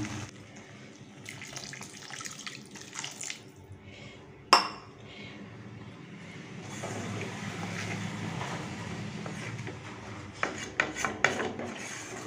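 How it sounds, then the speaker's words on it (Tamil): Water is added to a chickpea masala gravy in a pot, a quiet pour with a single sharp utensil clink partway through, then soft sloshing and scraping as the liquid mixes in. "தண்ணி சேர்த்துக்கலாம்."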